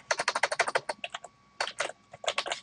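Rapid typing on a computer keyboard while writing in WordPress, two bursts of close, crisp key clicks separated by a short pause, with no talking.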